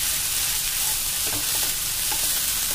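A brief stretch of sabudana khichdi being stirred in a hot pan, with continuous close frying sizzle and a few soft spoon scrapes, no voices.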